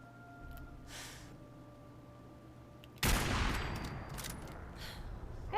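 Burst of rapid gunfire in Fallout 4 shooting at a Super Mutant Brute, a sudden loud crackling volley that erupts after a quiet hum and then trails off into scattered shots.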